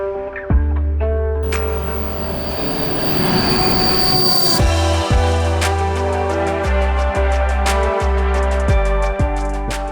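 A train pulls through a station between Jūrmala and Riga in Latvia, its wheels screeching in long sustained squeals over a loud rumble and rhythmic clacks of railcars close by.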